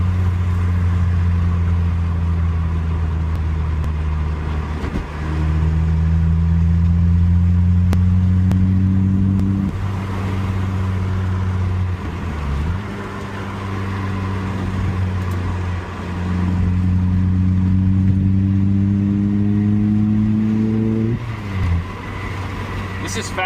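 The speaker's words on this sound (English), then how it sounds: "This is factory exhaust, by the way. Sounds really good." A car with its factory exhaust revs repeatedly, the engine note climbing and dropping back in several cycles, loud and close, with someone talking in between.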